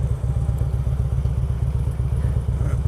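A Harley-Davidson Sportster motorcycle idles nearby with a steady, even, lumpy low thumping that runs unbroken, with no talking.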